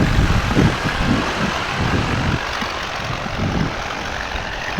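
A paramotor engine runs steadily at an airfield near the home of the Dambusters, a continuous low droning buzz with gentle pulsing, fairly close and heard alone without talk.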